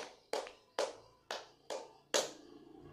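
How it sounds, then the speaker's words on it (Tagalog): Five sharp, evenly spaced claps, each decaying quickly, made by a class during a teaching demo as part of a counted round of ten; the claps are crisp, fairly faint and heard alone without talk. "bigyan natin ng 10 palakpak."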